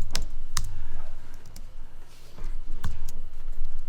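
A few sparse keystrokes on a computer keyboard, sharp isolated clicks with pauses between them, heard over a steady low room hum.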